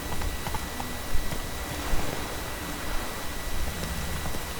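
Horse hooves in The Witcher 3 game, a steady galloping rhythm under a broad noisy wash resembling rain, with a few louder thuds standing out; no talking.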